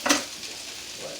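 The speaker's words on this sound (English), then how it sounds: "Give that a nice sear," Meat searing in a hot pan with weight pressed on top, a brief louder burst of sizzle at the start easing into a steady, close frying hiss.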